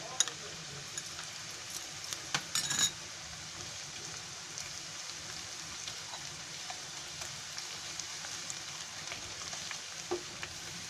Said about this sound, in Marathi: आता त्याच्यामध्ये आहे ना ही अद्रक लसूणची पेस्ट घेतली आहे ती टाकते